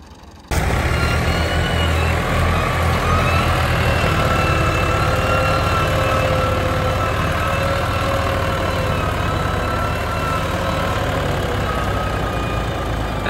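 Tractor engine, a Massey Ferguson 385 4x4 or New Holland Ghazi 65, running steadily at close range after an abrupt start, a loud continuous low rumble with a faint high whine on top and no talk.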